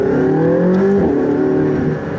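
A McLaren 675LT engine revs hard with a rising, throaty exhaust note, loud and close, followed by a sharp crack as the revs drop off near the end.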